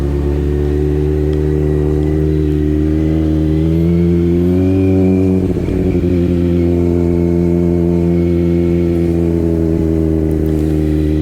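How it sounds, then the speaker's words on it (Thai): A Kawasaki Z900 motorcycle idles with a steady, deep, loud engine note on a rural village road, then revs up briefly as it pulls away before settling back. "ไปแล้วครับแซดเก้าร้อยท่าน"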